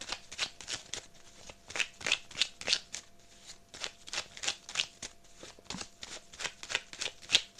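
Tarot cards being shuffled up close, a steady run of crisp riffling flutters and soft slaps repeating every fraction of a second, with no talk over them.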